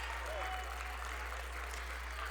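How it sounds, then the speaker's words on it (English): A crowd at a Maryville College women's basketball home game against Wesleyan gives a standing ovation, with a steady wash of applause heard faintly and at a distance beneath a commentator's voice. "Standing ovation from the crowd"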